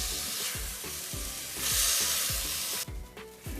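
Ground beef sizzling in a hot pan, a steady close hiss broken by repeated low scraping stirs, loud and unaccompanied by talk.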